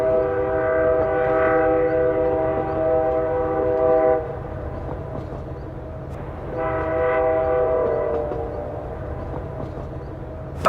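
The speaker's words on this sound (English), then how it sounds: "we've been on the slow train" A slow passenger train runs along the rails, its harmonic horn sounding loudly in two long blasts over a steady rumble of wheels and carriages.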